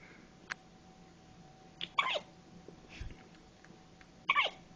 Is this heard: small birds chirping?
no